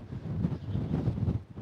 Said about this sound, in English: it's cold now with the wind